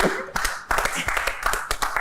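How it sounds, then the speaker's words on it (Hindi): Scattered clapping from a few people at a TV show gathering where guests are eating a meal, sharp uneven claps close by, mixed with voices talking over them. "तालियां"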